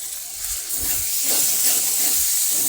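Chopped tomatoes cooking down in a pan for masala pav, a loud continuous bright hiss and sizzle close up with faint low clatter underneath, no talk.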